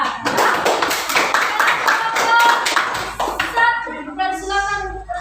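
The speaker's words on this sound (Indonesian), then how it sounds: "sekarang beri aplaus untuk kelompok 4" Classroom applause for a student group, a burst of many hands clapping fairly close and loud, fading out as a voice begins speaking.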